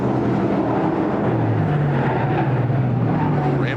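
Dirt modified race cars roaring around the track at Super DIRT Week, a dense sustained engine drone with several motors blending and shifting pitch as cars pass, loud and continuous.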